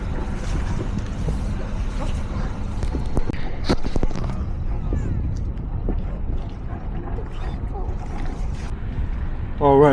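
A sailboat moves into a crowded anchorage with heavy wind buffeting and water wash running steadily throughout, while someone talks at times over the noise.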